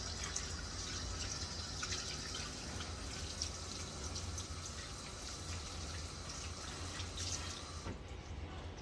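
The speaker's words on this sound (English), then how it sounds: "I've got to wash my hands, wash my fingers." Hands are washed under a steady running kitchen tap, a continuous close splash of water with small drips and shifts, and no talking.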